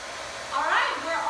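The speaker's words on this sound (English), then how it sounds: "I'm gonna use an 1800 watt hair dryer at a low heat setting" An 1800-watt hair dryer runs on a low heat setting to warm a moldable muzzle, its airflow swelling into a steady, moderately loud whoosh about halfway through the clip.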